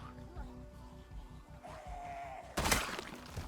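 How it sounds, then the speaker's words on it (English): Zombies break glass in the video game Project Zomboid: a sudden bright shattering crash cuts in near the end over low rhythmic thumping and faint background tones. "Hear them getting busy with the glass."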